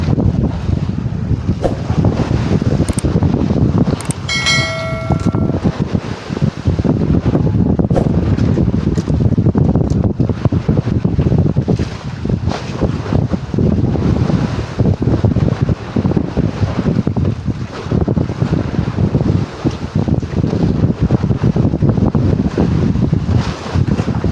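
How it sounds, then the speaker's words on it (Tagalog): Strong, steady wind on a small tuna fishing boat at sea, ahead of rain, roars and buffets the microphone throughout, a loud continuous rush with gusting noise and no clear voices. "palakas na ng palakas ang hangin"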